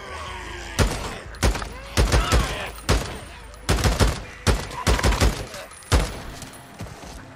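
Repeated bursts of gunfire from the zombie survival game Days Gone, played on PC: a dozen or so sharp, loud shots in uneven clusters over steady game ambience, with no talking.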